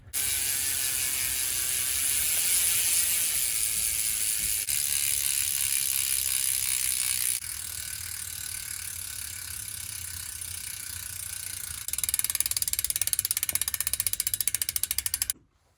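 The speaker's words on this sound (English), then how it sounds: "I'll give you guys a little taste of what the that Hope hub sounds like" Rapid, buzzing ratchet clicks from a freewheeling Hope rear hub on a downhill mountain bike, continuous and close, growing louder near the end before stopping abruptly.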